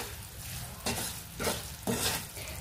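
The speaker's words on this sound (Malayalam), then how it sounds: "കാടമുട്ടയും കൂടെ ചേർത്ത് നന്നായിട്ട് അരപ്പിൽ നന്നായിട്ട് മിക്സ് ചെയ്തെടുക്കാം." Fried quail eggs are stirred into a sizzling masala paste in a hot pan, giving three distinct scraping strokes over a steady background sizzle, close and fairly soft.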